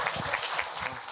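A lecture audience claps steadily in a brief burst of applause, a dense wash of many hands at even loudness.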